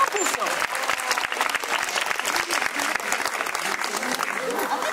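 An audience applauds a California sea lion's performance at a zoo show, steady dense clapping from a crowd that holds throughout at close range, with a voice briefly audible over it.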